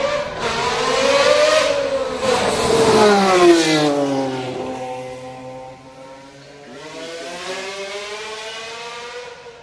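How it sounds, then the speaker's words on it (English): A 1991 McLaren Honda 3.5-litre V12 Formula 1 car screams at full revs on a hill run, its rising and falling engine note loud and close, easing briefly before climbing again. "just listen to a V12 on full song"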